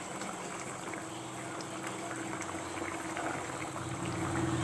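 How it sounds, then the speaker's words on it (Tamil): Kerala onion theeyal curry, thinned with a tumbler of water, bubbles in a pot with a steady close simmer of popping and gurgling liquid that builds slightly toward the end. "உள்ளி தீயல் கொதிச்சுட்டு இருக்கு இல்லையா"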